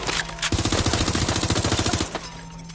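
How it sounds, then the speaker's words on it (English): Rapid automatic gunfire in Watch Dogs: Legion, a loud close burst of evenly spaced shots lasting about a second and a half, with single sharp cracks before and after. "Careful! Shots fired!"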